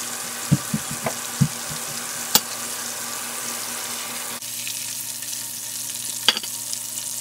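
Flour-coated pieces of homemade Indian-style KFC fried chicken frying in hot oil: a steady close sizzle, with a few sharp pops and clicks early on as pieces drop in.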